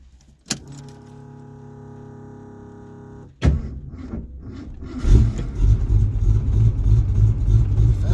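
A Ford Mustang engine cranks and fires at about 3.5 seconds, then runs at a rough, uneven fast idle set on the fast idle cam and grows louder after 5 seconds. Before the start there is a steady electrical hum with harmonic tones, and a sharp click.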